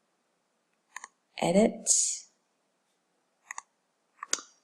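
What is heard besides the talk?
computer mouse clicks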